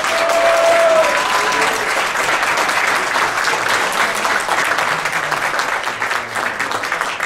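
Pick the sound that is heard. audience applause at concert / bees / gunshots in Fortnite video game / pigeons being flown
audience applause at concert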